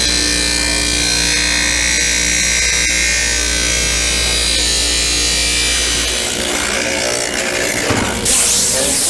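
A first-fit prosthetic leg socket has its medial wall trimmed down with a power tool, a loud continuous grinding-saw whine that runs steadily, then shifts and roughens in the last few seconds as the cut changes.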